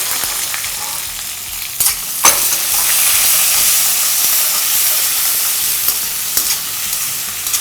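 Onion, tomato and two whole garlic bulbs sauté loudly in a hot pan for poondu kuzhambu, a dense continuous sizzle with a few sharp spatula scrapes and knocks against the pan, no talking.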